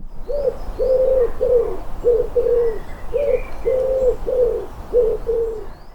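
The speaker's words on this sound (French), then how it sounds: "Quand il chante, il nous donne clairement son nom en répétant en 5 syllabes « Je suis un pigeon »." A pigeon sings its repeated five-syllable coo, two clear rounds of low, soft hooting notes in a steady rhythm over a constant background hum, with no voices.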